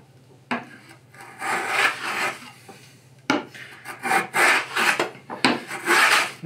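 A dull hand plane or blade scrapes across curly maple, tearing out the grain in long raspy strokes: one short pass, then a pause, then a series of rougher back-and-forth rubs, close and fairly loud, with no voices.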